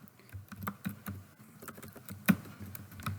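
Typing on a computer keyboard in a word processor, a close series of quick irregular clacking keystrokes with small pauses, fairly quiet and alone without talk.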